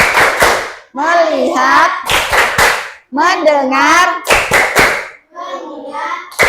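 Rhythmic hand clapping from a class doing a clapping ice-breaker game, in short bursts of sharp claps that alternate with a teacher chanting between them.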